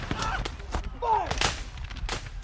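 Battle sounds from a Civil War scene, with several sharp musket cracks and booms scattered among shouted commands and voices, dense and chaotic over a low rumble.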